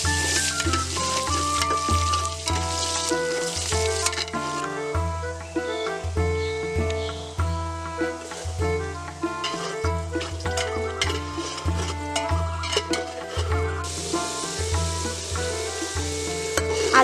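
Potatoes with a little salt and turmeric fry in oil, a continuous soft sizzle with occasional stirring scrapes, heard under rhythmic background music for the whole stretch.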